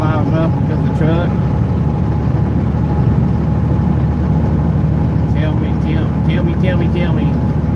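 A loud truck engine drones steadily at close range, a heavy low-frequency rumble that runs throughout while someone talks over it intermittently.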